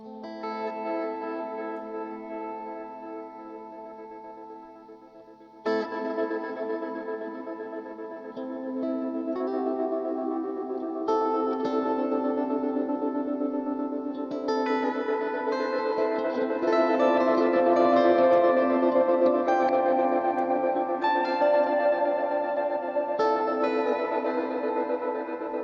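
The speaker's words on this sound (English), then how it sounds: "This Trem Verb I really like. The trem is just on the reverb signal, so my guitar is obviously unaffected." Electric guitar through the Source Audio Encounter pedal's Trem Verb mode, with tremolo pulsing only on the reverb. Sustained chords ring out with a lush, wavering wash that swells and decays, played alone without talk.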